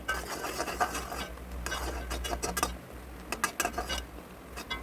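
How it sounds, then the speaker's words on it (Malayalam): A spoon stirs bubbling melted jaggery syrup in a pan while it cooks down for seed laddu. It makes close, repeated rubbing and scraping strokes over a low, steady rumble. "ഇനി ഒരു നൂൽ പരുവാകുന്നത് വരെ ഇളക്കണം."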